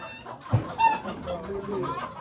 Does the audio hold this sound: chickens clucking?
yes